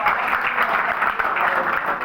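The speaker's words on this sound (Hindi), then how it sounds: "ताली बजा के" Audience clapping at a talk, a dense steady burst of applause heard close and loud for a couple of seconds.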